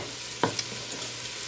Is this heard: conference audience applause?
no